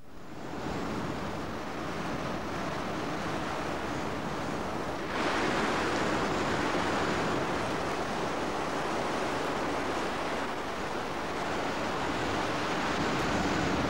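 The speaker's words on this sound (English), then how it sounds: "A wilderness of wind and water, the most remote of the British Isles." Wind and surf roar steadily along the shore of the most remote British Isles, a dense, continuous rush of breaking waves that swells louder partway through, with no voices.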